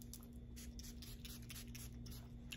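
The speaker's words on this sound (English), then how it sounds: "I'm gonna spray." Perfume is spritzed from a Kilian bottle in a quick run of soft, close hissy puffs with a little faint rustling between them, and nobody speaks.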